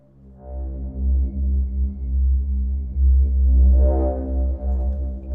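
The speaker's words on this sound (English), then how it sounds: "I'm just going to lay down this as a drone." A sustained synthesizer drone with a deep pulsing bass and layered harmonic tones sits loud and steady, swelling slightly midway, laid down as the base for sci-fi tabletop RPG music with no talk over it.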